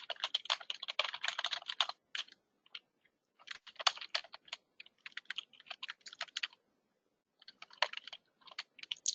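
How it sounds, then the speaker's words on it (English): A username is typed on a computer keyboard in quick, close bursts of crisp key clicks, pausing briefly between runs of keystrokes. "I'll just enter in my Bullhorn username."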